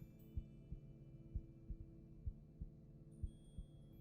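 Heartbeat sound effect in the video game Jenny LeClue: low, thudding pulses in pairs, about eight beats at a steady rhythm over a faint background hum, alone without talk.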